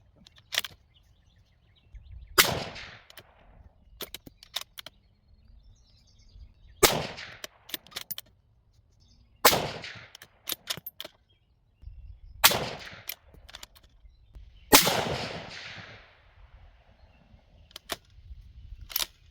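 Rifle shots from a .308 Winchester firing 175-grain Sierra BTHP rounds, six sharp loud reports spaced a few seconds apart, each with a short ringing decay and faint clicks between them, no talk.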